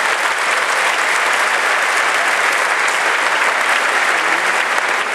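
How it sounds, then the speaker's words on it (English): A large audience at a Georgia Republican Party convention applauds a slate of five candidates, with dense, sustained clapping that holds steady and full for about five seconds. "I hope you'll join me in a round of applause for all 5 of these folks"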